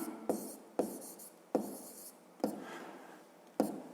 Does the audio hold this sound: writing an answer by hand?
yes